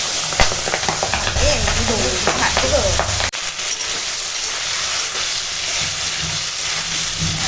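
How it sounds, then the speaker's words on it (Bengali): Fish offal fries in oil with bay leaves in a wok, giving a loud, constant hiss and sizzle throughout, with a person talking over the first few seconds. "এখন তেল পটকাগুলো ভাজা হয়ে গেছে"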